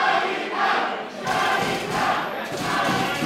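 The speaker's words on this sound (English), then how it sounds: "We got the local crowd here at the Houston Premier Arena" A local wrestling crowd at Houston Premier Arena roars in swelling waves of cheering and shouting, loud and continuous, with no clear commentary over it.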